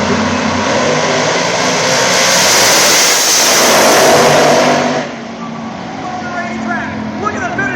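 Pro Nitrous, Pro Boost and Extreme Pro Stock drag race cars launch from the starting line at the PDRA World Finals, a loud roaring blast that swells and then fades as they pull away, with a commentator talking over it.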